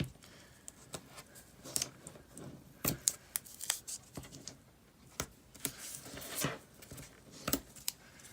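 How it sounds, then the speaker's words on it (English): Double-sided tape is peeled and pressed onto a paper craft card, giving faint, scattered crinkles, snaps and rustles in an irregular rhythm, close and quiet, with no talking. "I'm going to use my double-sided tape here."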